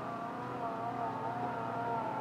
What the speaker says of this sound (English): doesn't sound like a truck, or sounds like some kind of weird vehicle